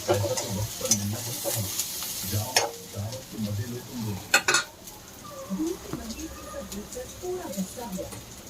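Four washed green chillies fry in a pan for a drumstick and potato dish, a close sizzle broken by spoon clatter and scraping as they are stirred, with someone talking throughout.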